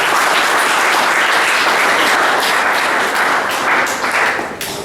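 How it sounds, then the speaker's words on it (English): Loud, sustained applause from a school audience at an English declamation contest, dense continuous clapping for the contestants that fades slightly near the end. "So a big round of applause for you."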